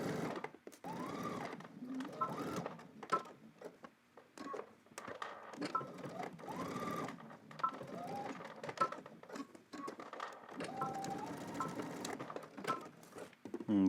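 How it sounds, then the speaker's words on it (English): A sewing machine stitches a seam on drop crotch pants in rapid bursts of close mechanical whirring, with short pauses between runs. "let's head to the machine and stitch this down"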